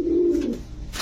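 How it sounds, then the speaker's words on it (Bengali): A pigeon gives a single short, low coo, close by and clear against faint background noise. "ডিম বাচ্চা করা কবুতর"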